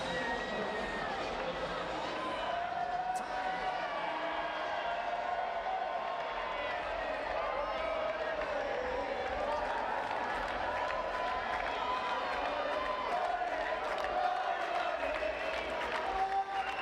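Crowd at a Paralympic wheelchair tennis final with British fans, cheering and clapping in a steady, continuous roar that stays loud and fairly near throughout, with a babble of voices mixed in.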